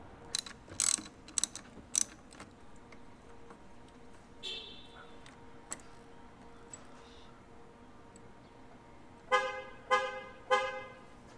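A ratchet with a 10mm socket loosening the negative terminal on a Toyota Camry XSE car battery: short clicking ratchet bursts early on, then a few quick rapid ratcheting runs near the end, faint under a steady background hum.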